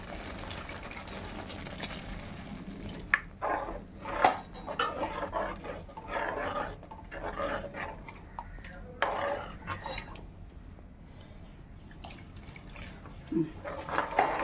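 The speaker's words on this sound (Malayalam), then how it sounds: "ഇനി നമുക്ക് വെള്ളം ഒഴിച്ചു കൊടുക്കാം." Water is poured into a pan of fish curry with softened tomatoes, making gentle splashing and trickling close by, mixed with intermittent clinks of a pot and utensils.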